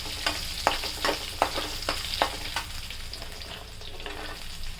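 Pointed gourd pieces fry in hot oil in a pan for a mixed paneer curry, a steady close sizzle with a run of sharp utensil clinks and scrapes from stirring in the first half.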